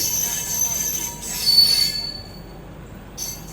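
The Tirupati-Puri Express with its new LHB rake pulls into platform 2 at Gudur Junction, its wheels letting out thin, sustained metallic squeals over a soft rolling rumble that fades and then returns briefly.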